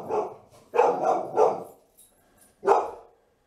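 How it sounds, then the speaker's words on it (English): A dog barks four times nearby, three in quick succession, then one more after a short pause. "the sound of my dog barking in just a second"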